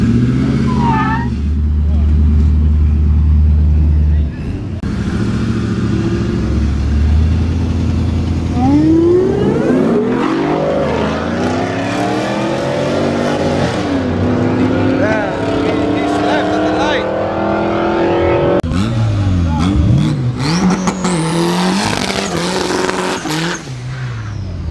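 A supercharged car at a Bay Area Thanksgiving street racing meet idles with a lumpy rumble, then revs and accelerates loudly through rising sweeps, with a whine climbing at the end; people talk nearby over it.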